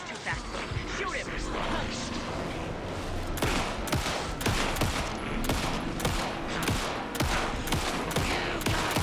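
Gunfire in Alan Wake 2: a burst of heavy shots sounds against a loud, chaotic background of crashing and mechanical noise. The shots come close together and at uneven intervals, and game voices are heard in between.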